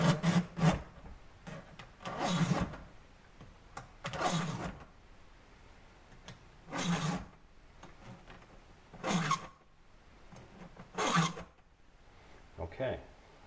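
Hand file sharpening the teeth of a chainsaw chain, close rasping strokes in a steady rhythm, each lasting about a second with short gaps between, six or seven strokes in all.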